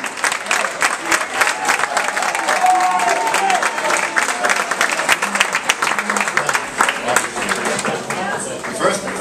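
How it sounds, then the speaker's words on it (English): Wedding guests clap steadily for several seconds for the father of the bride, a dense patter of applause with faint voices mixed in beneath. "Nice round of applause for Father of the Bride."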